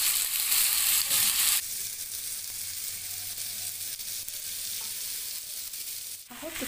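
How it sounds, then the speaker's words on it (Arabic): Potatoes, onion and mixed vegetables sizzle and crackle steadily in a hot frying pan, a loud burst at the start settling into a continuous close-up fry with occasional stirring scrapes. "هشوح البطاطس والبصل واحط عليه بقيه الخضار."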